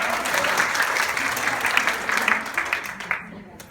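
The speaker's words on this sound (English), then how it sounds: "Give yourselves a clap and have a sit down." An audience at an executive and personal assistant conference in Sydney applauds and claps, a full, steady wash of hands that thins out and fades near the end.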